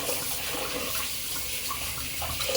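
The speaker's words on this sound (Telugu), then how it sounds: "మన కందిపప్పుని నీట్గా ఒక 2-3 సార్లు వాష్ చేసుకోవాలి శుభ్రంగా." Toor dal being rinsed under a running kitchen tap, a steady broadband rush of flowing water with small splashy irregularities, continuous and fairly close with no talk.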